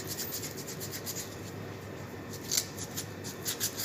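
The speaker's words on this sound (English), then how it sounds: "I'd just like to give it a bit of a quick sand, nice and smooth" Quick sanding strokes smooth the ice sensor of an ice machine being serviced, a soft continuous rasping scrape with a few sharper scratches, close and fairly quiet.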